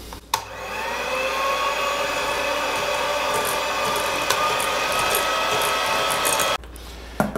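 An electric mixer beats room-temperature butter and sugar for lemon bars, a loud continuous whirring hum that runs steadily for several seconds before cutting off.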